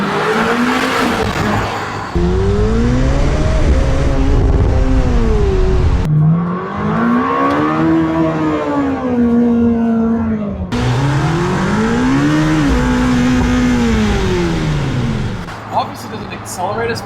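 A Lamborghini Temerario's turbocharged hybrid V8 revs hard to around 10,000 RPM inside a tunnel, loud and close, its pitch climbing and falling in three long sweeps that echo off the walls.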